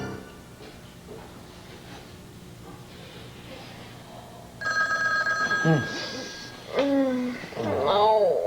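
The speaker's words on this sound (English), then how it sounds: "It's just the phone." A telephone rings during a tense indoor soap-opera scene: a loud, bright electronic ring that repeats in bursts over the second half, with people talking in the background.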